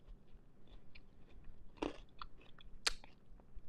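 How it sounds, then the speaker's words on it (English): Crunching bites of croutons and lettuce in a griddle chicken Caesar salad, close and quiet, with a couple of sharper crisp cracks amid softer chewing, no talk. "I'm getting the crunch from the crouton. I'm getting the crunch from the lettuce."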